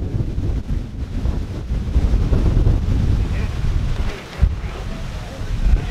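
Strong gusty wind buffeting the microphone at an outdoor dirt jump course, a loud continuous low rumble that rises and falls, with faint voices partly buried beneath it.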